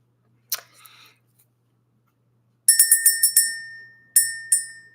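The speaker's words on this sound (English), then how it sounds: "So we're going to go ahead and ring the bell." A small bell rung to clear the energy during a spiritual reading, giving a few bright, close metallic strikes in a quick cluster, then another pair after a pause, each ringing briefly in a quiet room.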